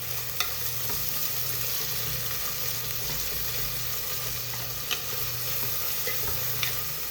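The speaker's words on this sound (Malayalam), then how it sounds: "ആ സവാളയ്ക്ക് നമ്മൾ കുറച്ച് ഉപ്പും കൂടെ ചേർത്ത് വഴറ്റിയാൽ പെട്ടെന്ന് തന്നെ വഴറ്റിയെടുക്കാൻ പറ്റും" Sliced onions with a little salt sizzle steadily in a hot pan for a Kerala-style beef curry, a continuous close frying hiss broken by a few soft scrapes of stirring, with no voices.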